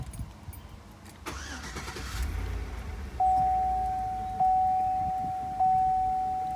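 A 2005 Chevy Suburban engine cranks and catches, then settles into a steady idle nearby, while a sustained electronic chime tone sounds repeatedly over the running engine; no one talks.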